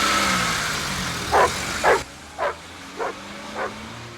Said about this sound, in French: Il aboie juste à côté d'ici.